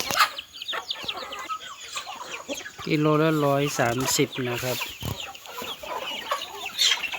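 Domestic chickens cluck and squawk nearby, busy and overlapping, while someone talks over them at a chicken sale.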